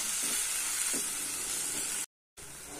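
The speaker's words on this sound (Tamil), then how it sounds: "இப்போ தக்காளி நல்லா வதங்கட்டும்." Tomatoes sauté in a pan for Udupi hotel-style rasam, giving a soft, steady sizzle with faint stirring, briefly cut to silence near the end; nobody talks.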